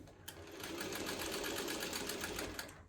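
A sewing machine stitches cotton quilt blocks together, a steady rapid mechanical hum of needle strokes heard up close for a few seconds, with a small click near the start and end.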